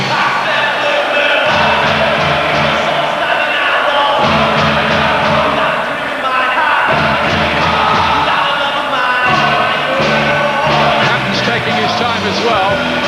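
Packed boxing arena crowd at a Ricky Hatton fight against Eamonn Magee chants and roars in loud rhythmic waves, a constant dense din throughout.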